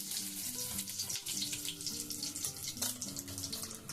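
Shukto, a Bengali vegetable dish made with milk, keeps boiling in a pot, a close, steady bubbling and watery gurgle running without pause, with a faint tonal hum underneath.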